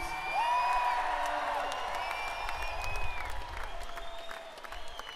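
A concert crowd at a show applauds and cheers loudly, dense clapping with whoops and whistles rising over it, sustained for about five seconds before easing slightly.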